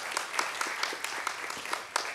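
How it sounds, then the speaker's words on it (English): Audience applause at a young water professionals debate, a steady patter of many hands clapping at moderate distance, fairly quiet and even throughout. "Round of applause, please."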